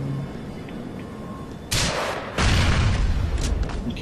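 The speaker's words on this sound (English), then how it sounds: "what I do is I just shoot the hell out of him with my rocket launchers" Rocket launcher fire in GTA, two loud, close blasts, each followed by a sustained rumbling roar of explosions over low background noise.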